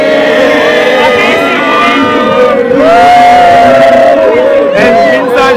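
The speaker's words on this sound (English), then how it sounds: "nasa gitna kami ng crowd" A dense crowd at a busy outdoor event, with loud continuous hubbub, shouts and cheering voices surrounding the listener throughout.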